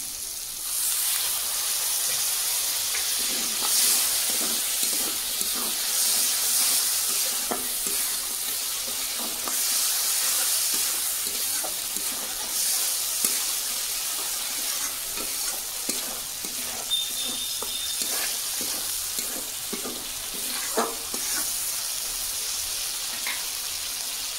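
Ground poppy-seed and mustard paste masala sizzling in a pan for a vegetarian kochu (taro) curry after a splash of water, with steady close frying hiss and repeated scraping stir strokes throughout.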